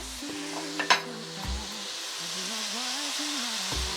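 Peas and carrots sizzle steadily in a frying pan as they brown for a vegetarian pilau, a close continuous crackle broken by a couple of sharp utensil clinks and stirring scrapes.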